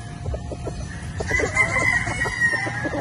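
A gamefowl brood stag, a 50-50 Sweater Boston cross, crows loudly and close by on a farm, one long drawn-out call rising over soft clucking and background birds.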